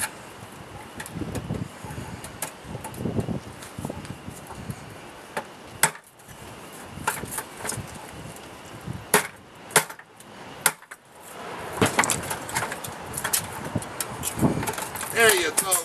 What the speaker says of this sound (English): sometimes you need to take the little hammer and give it a hit.